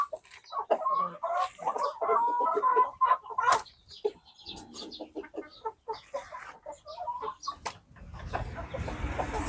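Black Australorp breeder chickens cluck in a farm setting, with several birds giving repeated, overlapping clucks and short calls at close range, then a rougher, noisier stretch near the end.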